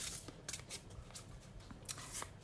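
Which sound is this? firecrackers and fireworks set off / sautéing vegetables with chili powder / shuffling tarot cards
shuffling tarot cards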